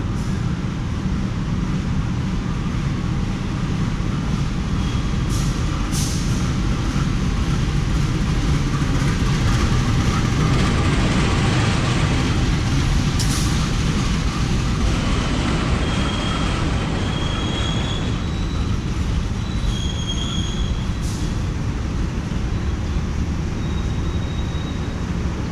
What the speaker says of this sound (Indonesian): kereta api Logawa menggunakan lokomotif vintage